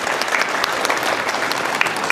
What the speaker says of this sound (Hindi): आप लोग जोरदार तालियों से इन सब का स्वागत करें